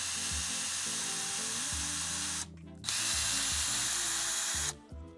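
A power drill whirs steadily backing old screws out of a wall, running in two long continuous bursts with a short pause between, close and fairly loud.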